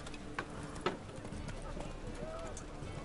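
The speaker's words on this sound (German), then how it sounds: "Dummes Pferd. Nicht den ganzen Markt kaputt reiten." Horse hooves clop in a light, uneven rhythm through a Novigrad market in the video game The Witcher 3, against a steady background bed, with a couple of sharper hoof strikes standing out early.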